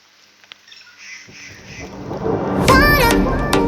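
Rain and thunder in a small Indian village: quiet at first, then a rumble that swells to a loud, sustained roar of storm and downpour, with a sharp crack near the end and a faint voice early on.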